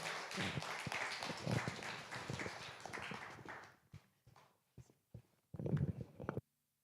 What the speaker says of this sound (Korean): 우리 큰 박수로 우리 함께 환영하고